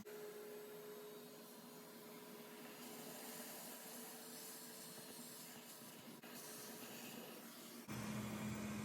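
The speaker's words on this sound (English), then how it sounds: "Then I carefully vacuumed some of this dust from a little bit of a distance" A vacuum cleaner draws dust off refrigerator condenser coils from a short distance, giving a steady, close, loud whirring hiss that runs without a break and grows louder and fuller near the end.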